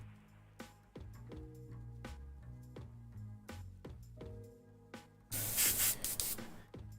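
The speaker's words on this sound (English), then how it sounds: "I'm currently freehanding it and airbrushing around all those dudes there." An airbrush sprays paint onto a guitar being freehand painted in a studio. Gentle bursts of hiss sit under background music, then a louder, sustained spray rushes in near the end.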